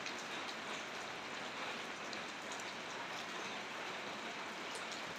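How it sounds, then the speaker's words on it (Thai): Steady rain hisses evenly and continuously, a dense wash of drops with no voices or other sounds over it. "มีฝนครับ"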